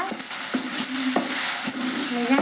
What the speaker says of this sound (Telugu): నేనైతే కొంచెం పచ్చివాసన పోయేంతవరకు వేయించుతానండి